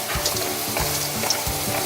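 Pork and onion in a stir fry give off a loud, close, continuous sizzle, broken by a few scraping stirs of a utensil.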